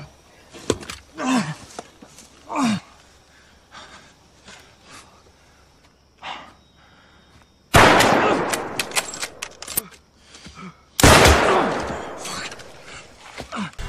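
Gunfire erupts in a movie scene of an armed group's attack, set in a virus-outbreak story. Two loud, dense bursts of rapid shots come after a quieter stretch of scattered sounds and faint voices.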